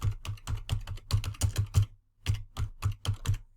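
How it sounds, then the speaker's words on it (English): Rapid typing on a computer keyboard while entering a Google search, a close, crisp run of key clicks with one brief pause midway before the tapping resumes. "Let's type into Google"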